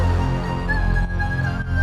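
A dense synth melody line from the build-up chorus of a remix plays loud and sustained over low bass, with a bright held lead note and no voices.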